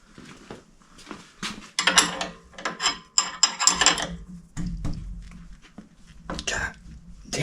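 Tight suspension bolts being worked loose on a 1928 Ford Model A roadster pickup: close metallic wrench clanks, ratcheting and scraping in irregular bursts, with someone talking and muttering between them.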